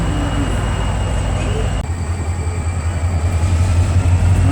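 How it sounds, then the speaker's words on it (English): A diesel locomotive on a tourist train in Bryson City, North Carolina revs up, its steady low rumble growing heavier and louder partway through, heard close by and continuous. "increasing power."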